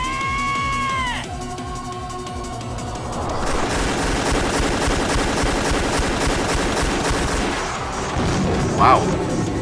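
Multi-shot ballistas in the visual novel game Umineko fire all at once: a chiming tone gives way to a dense, rapid barrage of clattering shots that rolls on steadily and swells into a louder burst near the end.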